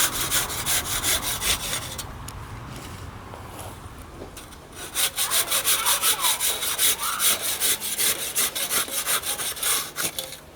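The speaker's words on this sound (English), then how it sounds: "So the saw will do it just as quickly as the rasp." Hand saw cutting through an aircrete block, steady rasping back-and-forth strokes, close and loud, with a brief lull midway before faster, harder strokes resume.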